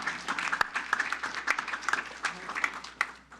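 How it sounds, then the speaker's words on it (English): Applause breaks out at a city council meeting, a modest group clapping unevenly in a hall, with some voices mixed in. "let's give him a round of applause"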